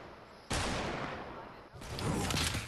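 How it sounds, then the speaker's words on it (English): Rapid automatic gunfire in the Fortnite video game bursts in suddenly, sustained and loud for over a second, pauses briefly, then resumes in a second dense volley. "He was shooting at you the whole entire time."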